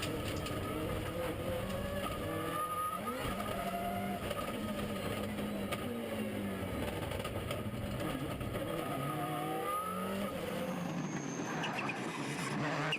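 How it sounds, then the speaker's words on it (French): A Subaru Impreza rally car on a stage drones steadily throughout, engine note rising and falling through gears with a continuous rough roar at moderate distance, no voices over it. "Et Mark Timmers, il s'amuse toujours au volant de sa Subaru Impreza avec Peter Kaspers"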